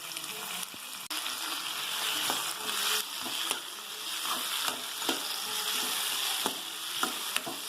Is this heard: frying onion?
yes